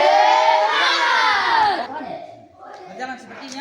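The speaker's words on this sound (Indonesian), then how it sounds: "kita tepuk semangat" A group of schoolchildren shouts in unison during an outdoor physical education lesson, giving a loud, energetic spirit chant that fades into scattered voices.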